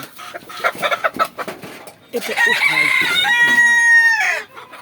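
Hens in a backyard poultry coop cluck in short bursts up close, then one bird lets out a long, loud crowing call that holds for about two seconds before fading.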